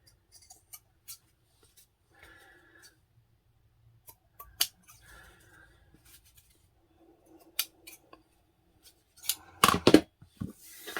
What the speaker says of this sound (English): And then I'm just going to trim off any excess.